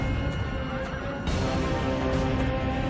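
A horse in The Witcher 2: Assassins of Kings lets out a wavering neigh over a steady bed of game music and ambience, followed by a louder swell of background sound.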